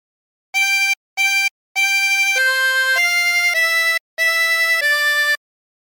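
A 20-hole tremolo harmonica plays a phrase of Hark the Herald Angels Sing, with bright reedy sustained notes: two short blows, a pause, then a longer run of connected notes, close and clear with no talking.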